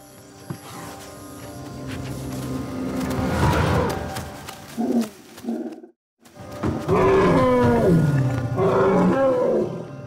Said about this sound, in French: Les éléphants n'aiment pas qu'on leur court après, alors ils répliquent.